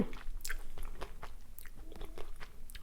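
Someone biting into and chewing a frozen chocolate-coated banana, with a crisp crack followed by a run of close, wet crunching chews and no talking.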